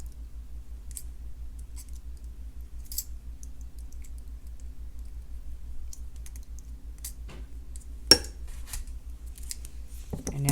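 Wire cutters snip excess jewelry wire on a beaded multi-strand necklace, a few faint clicks over a quiet hum, then one sharp close cut.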